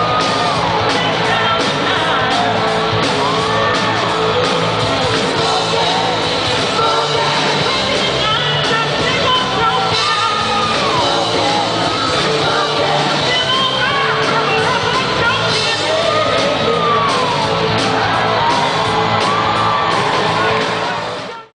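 A large concert crowd at a performance, cheering, whooping and yelling continuously for about twenty seconds, loud and dense throughout.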